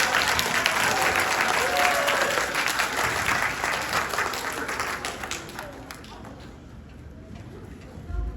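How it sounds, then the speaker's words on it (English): An audience of children and parents applauds at an elementary school pinning ceremony for first and third graders. The steady, fairly dense clapping lasts most of the clip, softens near the end, and has some voices under it. "Let's give her a round of applause"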